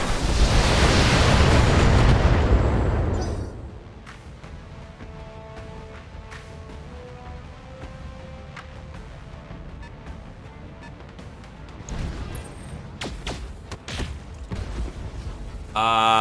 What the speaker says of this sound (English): That was 2 Gauss rifles.